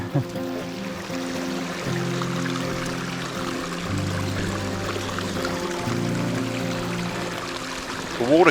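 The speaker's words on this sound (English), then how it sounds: "The water coming off the mountain at this spot was so cold" Cold mountain water runs steadily down a wet hiking route on Mount Maroon, a continuous close rushing flow with a low tonal hum under it.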